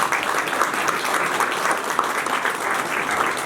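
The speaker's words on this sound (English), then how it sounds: "let's give Greg a round of applause for putting together a great event" Steady crowd applause at an outdoor Veterans Day ceremony, many hands clapping in a dense, even wash that holds at a constant level without pause and without any voices over it.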